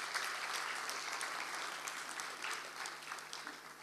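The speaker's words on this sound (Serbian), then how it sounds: "Molim jedan aplauz." Festival audience applauding at a humanitarian music festival evening, a steady, dense wash of clapping that holds for the whole stretch at moderate volume, with no voices on top.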